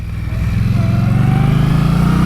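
Indian Scout Bobber motorcycle idling with no exhaust fitted, a loud, close, steady rumble with a rapid pulsing throb that firms up after a brief start.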